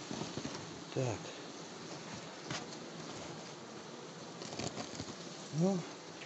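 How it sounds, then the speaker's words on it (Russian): Honey bees buzzing inside a large 49-frame horizontal hive, a steady low drone at moderate level throughout, with brief voices and handling sounds breaking in a couple of times. "Давайте вот здесь пчелы довольно-таки много."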